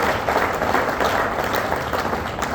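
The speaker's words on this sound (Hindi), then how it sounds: "एक बार तालियां।" Audience applause fills a seminar hall in Nainital, a steady wash of clapping hands lasting a few seconds, dense and even throughout with no voices over it.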